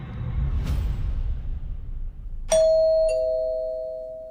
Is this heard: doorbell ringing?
yes